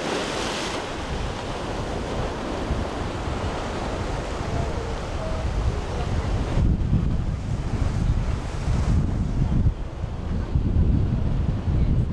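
Big, rough ocean swell breaking along the rocky Maltese coast near Xemxija, a continuous roar of surf with heavy gusting wind buffeting the microphone, loud and close with no clear talk.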